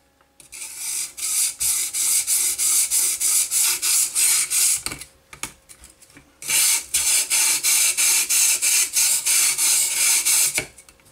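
A knife blade rasps back and forth across a cheap sharpening stone in steady, loud strokes, a run of about a dozen passes, a short pause, then another quick series of strokes, with no talking.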